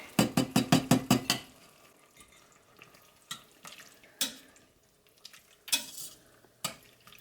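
Turkey soup with diced tomatoes stirred in a pot: a quick run of about eight rhythmic wet sloshing strokes, then slower, scattered scrapes and splashes of the spoon, close up with no talking.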